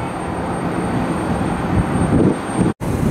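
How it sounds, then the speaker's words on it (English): A private Falcon jet from Denver rolls or taxis at Cleveland Hopkins Airport, a loud, steady engine roar with a thin high whine held throughout and one abrupt short dropout near the end. "Got a private Falcon jet bound from Denver, one of the Denver area airports."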